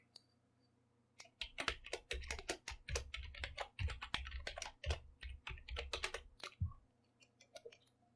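Rapid bursts of computer keyboard typing, close and fairly quiet, with irregular clusters of key clicks and brief pauses between words, alone without speech.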